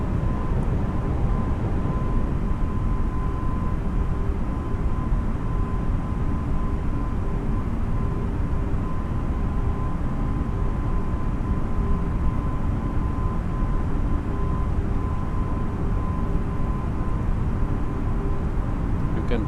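An Airbus A320neo rolls for takeoff in Microsoft Flight Simulator with a steady, dense engine roar and rumble that stays even and loud for the whole stretch, no voices over it.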